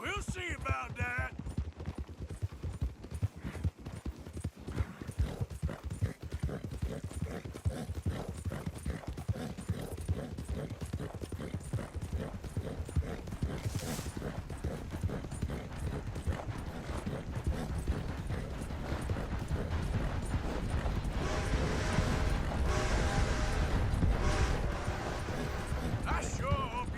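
A horse gallops in Red Dead Redemption 2, a fast, steady clip-clop of hooves running close and continuous for the whole stretch, with occasional background game sounds mixed underneath.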